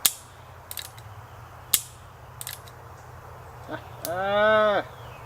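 A Heritage Rough Rider .22 revolver fires CCI Stinger cartridges, giving several sharp, irregularly spaced cracks at moderate distance, followed near the end by a cow lowing in the background.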